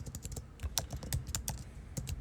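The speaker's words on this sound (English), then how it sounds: "How many words per minute can you type?" Fingers tap quickly on a computer keyboard, a dense, irregular run of close, crisp key clicks that continues throughout without any talk.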